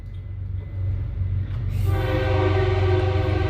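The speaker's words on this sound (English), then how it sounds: "if you can hear that train, just ignore it" Low rumble of a train rolling past, then a loud, sustained horn blast joins in partway through and holds to the end.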